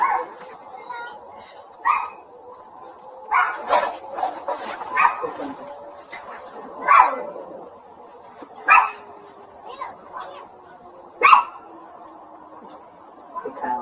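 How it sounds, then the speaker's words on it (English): Dogs barking and whimpering in short repeated bursts, fairly close, with yips and whines spaced every second or two and voices talking in between. "Here, let me grab the dog."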